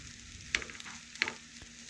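Street-food-style Kashmiri pulao being stirred and mixed in a pan, with two distinct spatula scrapes over a faint, quiet sizzle, close and without voices.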